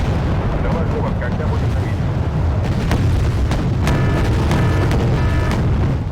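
Naval combat in Wargame: Red Dragon as an enemy ship is hit by missiles, a dense rumble of explosions and artillery-like bursts under continuous noise while someone talks.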